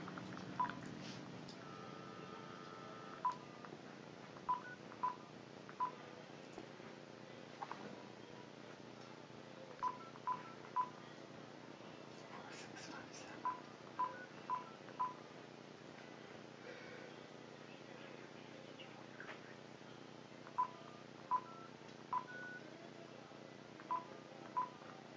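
Telephone keypad tones sound as a number is dialed, short beeps in scattered bursts and small clusters over about twenty-five seconds, fairly faint above a quiet background hum, with no voices.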